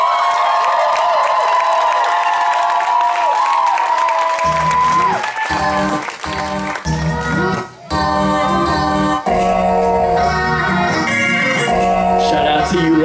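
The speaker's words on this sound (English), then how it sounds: "I want you all to make some noise for Marie Randall" A concert audience makes noise for an honoured guest, loud sustained crowd cheering and applause that swells after a few seconds and continues over music to the end.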